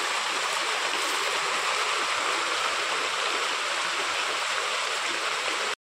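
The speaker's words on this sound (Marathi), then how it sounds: "आणि पाणी पण जाम पडते बघा." Water pouring down a waterfall beside a hillside temple, a dense, steady roar that stays loud and unbroken throughout, with no voices over it.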